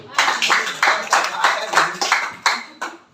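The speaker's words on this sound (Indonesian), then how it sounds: "Tepuk tangan buat Tuhan." A church congregation claps in unison to a steady beat, about ten sharp, loud claps spaced evenly and close together.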